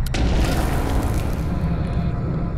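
A heavy ordnance blast in the combat game The Bureau: XCOM Declassified, one sharp near boom at the start that rolls off into a long rumbling decay, with no voices.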